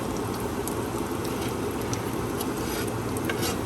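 Latkes fry in a carbon steel pan with a steady, even sizzle and faint crackling throughout, moderately quiet, with no talk.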